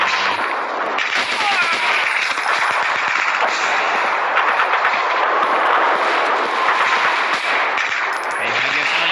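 Loud, dense automatic gunfire from the video game PUBG rattles on without a break, full bursts layered close together. It stays at high volume from start to finish.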